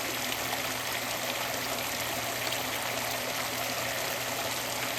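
Water streams steadily out the back of a mini highbanker, a constant close splashing and rushing that stays even throughout with no breaks.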